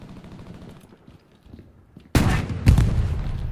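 In the video game Hell Let Loose, during a battle at Carentan, after a quiet stretch of faint background noise, loud sharp gunshots suddenly burst out, followed by a second heavy blast and continued rattling fire.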